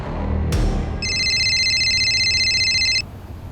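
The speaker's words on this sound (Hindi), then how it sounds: "अरे कोकिला, देखो तो किसका फोन है" A sharp click, then an electronic landline phone tone warbles continuously for about two seconds before cutting off, over a low background hum.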